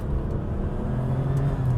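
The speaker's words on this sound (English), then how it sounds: "You've got that extra turbo blow-off" A RUF BTR2 sports car's turbo blow-off and engine drone, a steady low rumble with some whir throughout, heard from inside without talk.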